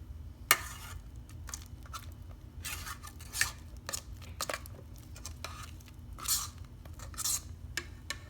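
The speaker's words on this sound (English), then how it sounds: "what I like to do is scrape the bowl to make sure I got everything blended in nice" A spatula scrapes chocolate cheesecake batter from the sides of a mixing bowl, giving short, soft scratchy strokes that repeat irregularly over a steady low background hum.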